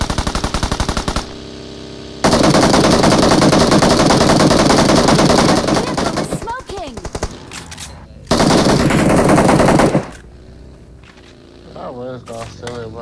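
Automatic gunfire rattles at rubbish in PUBG Mobile, long loud rapid bursts of shots with brief gaps between them, while a voice talks over part of the shooting.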